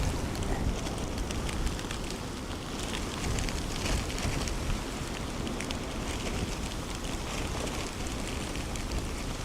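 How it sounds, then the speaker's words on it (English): Wind and rain at an outdoor spot by Dublin Airport, a dense, steady broadband roar of gusts buffeting the microphone with rain hiss mixed in, continuous and fairly loud with no talk. "I don't know whether the mic is picking up the wind and the rain."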